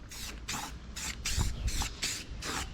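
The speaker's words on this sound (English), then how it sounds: "Let's just spray it, man." Rust-Oleum satin black spray can paint sprays in six or seven steady bursts, each a sharp airy hiss about a third of a second long, close by and loud, with short gaps between them.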